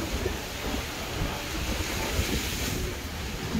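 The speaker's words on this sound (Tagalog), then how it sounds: "Ay, lakas ng alon." Strong sea waves surge and roar continuously by a seaside terrace in Bauan, Batangas, with wind adding a broadband rush; steady and fairly loud with no voices.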